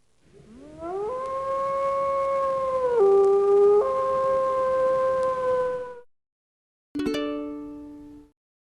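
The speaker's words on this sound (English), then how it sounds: "Wolf." A wolf howls loud and near: a long howl rises, holds steady with a dip in pitch midway, then fades, and after a short pause a second, briefer howl follows.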